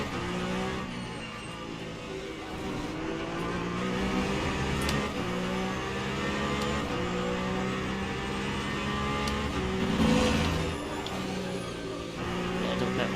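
Peugeot 9X8 hypercar engines in the racing game ACM at Spa, with a steady loud drone and rising, shifting revs as the hypercar comes past, staying close throughout with no clear fade.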